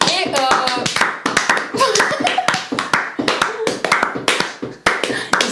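Close hand claps from podcast hosts applauding themselves at the end of an episode, a steady run of sharp claps over several seconds with brief pauses, voices and laughter mixed in underneath.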